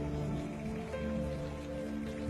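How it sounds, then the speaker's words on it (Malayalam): Soft rain patters steadily in the background, faint and continuous, with a low sustained tone running beneath it. "ശരിക്കും തോരാ മഴയാണ് പുറത്ത്."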